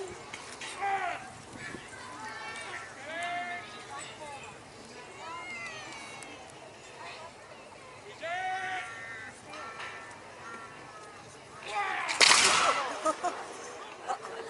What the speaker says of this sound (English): make sure that they fire in the right direction.